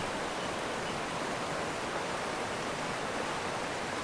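A waterfall in a jungle setting, a steady dense roar of rushing water filling the scene at constant level without breaks.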